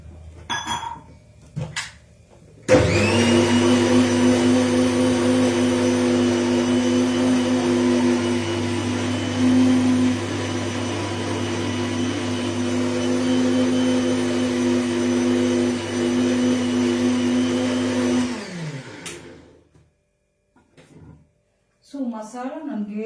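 A kitchen mixer grinder grinds masala, starting abruptly with a loud, steady motor whine that runs for about fifteen seconds before cutting off, with brief talk and clatter before and after.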